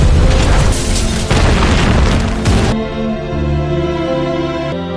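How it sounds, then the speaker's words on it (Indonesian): A building blows up in a film scene with a loud, sustained explosive roar and crackling debris, followed by a sharp cut to a ringing musical tone. "Yujong meledakkan gedungnya."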